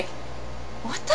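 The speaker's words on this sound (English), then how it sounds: "That's a cat." A cat gives a short rising meow at the end, close by, following a voice speaking over a steady low room hum.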